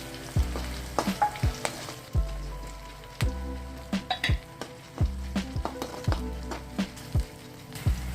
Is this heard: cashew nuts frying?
yes